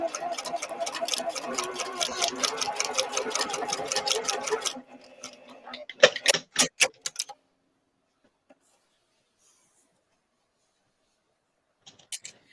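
A domestic sewing machine stitches a white seam on a quilt, a fast steady mechanical rattle for about five seconds, then a few short separate bursts before it falls silent.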